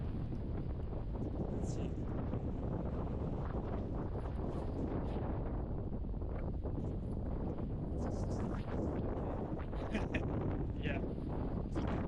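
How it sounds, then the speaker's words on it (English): Strong wind buffets the microphone on a beach in Crete on an April day, a constant loud rumbling roar for the whole stretch, with brief talk heard over it. "the wind is so strong."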